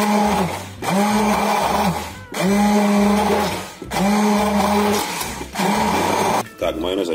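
A kitchen blender whips homemade mayonnaise in loud repeated bursts, each pulse of whirring motor separated by brief pauses, with talk in the background.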